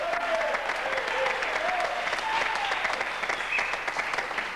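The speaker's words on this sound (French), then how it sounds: "on l'applaudit très fort" Studio audience on the French TV game show Motus in 1990 applauding a contestant: dense, steady clapping that stays loud and even throughout, fading slightly at the end.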